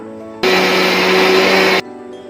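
A mixer grinder whirs loudly while blending garlic paste with ice water and oil, a steady buzzing roar that starts and stops abruptly after about a second and a half.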